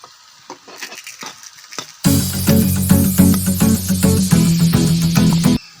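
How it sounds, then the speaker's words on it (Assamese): An egg goes into a hot pan and starts frying, a sudden loud sizzle that rises after a quieter stretch of small kitchen clatter, with repeated scraping and stirring strokes over the hiss. "এতিয়া ডিমটো দি দিলোঁ, এতিয়া অলপ লৰাই দিব লাগিব।"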